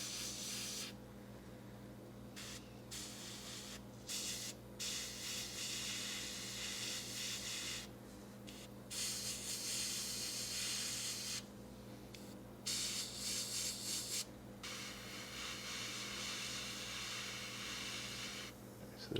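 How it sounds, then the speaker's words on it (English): An airbrush hisses white paint onto parts of a 1/48 Tamiya F-4B Phantom model kit, in steady bursts broken by short pauses, near and fairly quiet over a constant low hum. "it is time to go ahead and spray the white"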